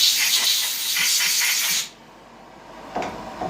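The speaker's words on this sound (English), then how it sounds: "Using a little bit of compressed air to clean it." Compressed air blasts in a loud, broad hiss to clean a plastic part machined on a Fadal CNC mill, then cuts off abruptly, leaving quiet room noise and a brief clatter near the end.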